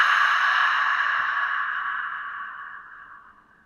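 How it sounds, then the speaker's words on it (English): A single Ujjayi breath made by constricting the back of the throat, a close, soft, airy rasping exhale that starts strong and gradually fades away over a few seconds, with no talk. "I suggest Ujjayi breathing, which is constricting through the back of your throat just enough to make a little sound like"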